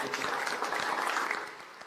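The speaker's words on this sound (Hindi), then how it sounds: "तालियां बजाइए शौर्या दल के।" A short burst of brisk crowd clapping for the Shaurya Dal group fills the room at an awareness event on the safety, nutrition and health of adolescent girls, steady and fairly close before easing slightly at the end.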